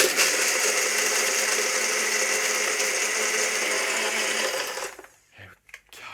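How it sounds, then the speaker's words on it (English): A NutriBullet blender whirs loudly and steadily for about five seconds while blending a passion fruit cocktail, then cuts out abruptly, leaving a few quiet knocks and handling sounds. "Pop the old NutriBullet on."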